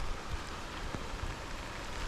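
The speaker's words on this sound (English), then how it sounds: "it's pissing down now. It's kind of been raining since about 11 o'clock." Heavy rain pours down at a campsite in Fiordland's Southern Alps, a dense, steady hiss of drops drumming on surfaces, with no voices.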